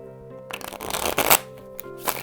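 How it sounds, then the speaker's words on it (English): A deck of cards for the card game Cover Your Assets is riffle-shuffled up close, giving a roughly one-second burst of fluttering card snaps followed by a quick tap, with no talking. "All you do is shuffle the deck,"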